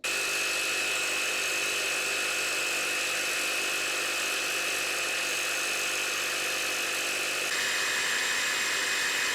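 A power tool cuts across a steel go-kart frame tube just short of a weld, giving a steady high-pitched whine with grinding buzz that shifts in pitch near the end.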